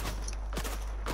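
Gunfire in the Fortnite video game, a couple of brief shots ringing out at moderate distance over a steady low background hum, with no talk.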